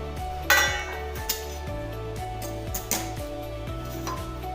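A metal covering plate clinks and scrapes as it is lifted off a steaming pot of wheat khichu, a few sharp metallic knocks over a steady low hiss and hum of the stove, no voices.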